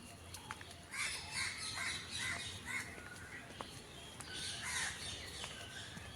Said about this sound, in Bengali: ভীষণ শান্ত এই জায়গাটা, শুধু পাখির আওয়াজ